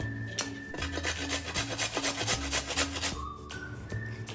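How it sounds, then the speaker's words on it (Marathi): Fresh turmeric root rasped on a hand grater for pickle, a rhythmic series of close scraping strokes with short pauses between passes, no talking. "म्हणून मी किसणीने किसून घेते सगळं।"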